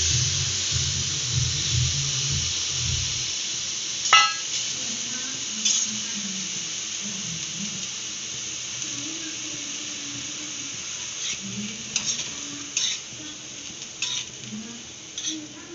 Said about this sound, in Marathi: आता मी तव्यामध्ये टाकते आहे भुजायला